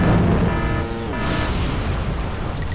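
Rocket strikes destroy a ship in the strategy video game Wargame: Red Dragon, with a dense rumbling roar of blasts and booms filling the scene, loud and continuous with no pauses.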